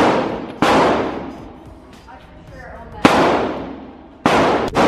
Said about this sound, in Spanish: Ahora os voy a dejar otro clip más en el que disparo con una pistola